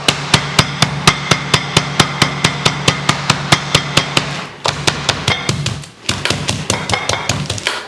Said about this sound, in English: And we have our meat tenderizer, steak hammer.